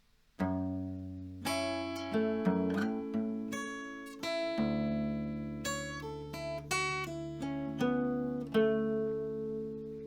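A steady stream of plucked guitar notes in a quick, repeating fingerpicked pattern, with low bass notes ringing beneath brighter treble notes, played close and clear.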